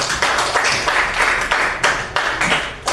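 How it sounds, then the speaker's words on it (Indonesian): Classroom applause at a junior high school in Indonesia, a steady patter of clapping hands from a group of students filling the whole moment at moderate loudness with no talk over it. "kita berikan tepuk tangan untuk Fadila"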